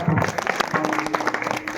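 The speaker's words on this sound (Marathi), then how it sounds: "आमचे हरिभक्त पारायण राजेंद्र महाराज यांच्यासाठी जोरदार टाळ्या वाजवा" Brief burst of crowd clapping at a devotional gathering honouring a kirtan performer, fairly loud and even, with a voice heard speaking over it.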